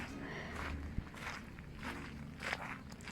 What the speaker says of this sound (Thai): ตอนนี้ก็เดินมาใกล้จะถึงบ้านแล้วนะคะ